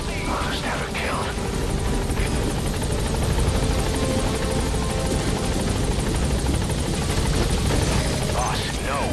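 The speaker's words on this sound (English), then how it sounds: "I'll send the extraction chopper." Extraction helicopter arriving in the video game Metal Gear Solid V: The Phantom Pain, a loud, continuous rotor thump and turbine whine that fills the whole stretch, with brief radio-style chatter and game effects over it.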